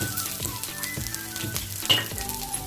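Garlic, green chili and grated coconut fry in a pan with a steady, close sizzle and a few stirring scrapes, heard alone with no voices.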